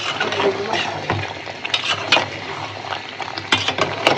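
Beef bhuna being stir-fried in a pot: a spoon scrapes and stirs with repeated metallic clinks and knocks over a low sizzle of the meat cooking, close and continuous with no talking.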